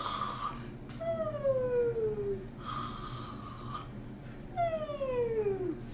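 Voices imitate snoring, twice drawing a breath and then letting out a long, falling, whistling exhale. Close and fairly quiet.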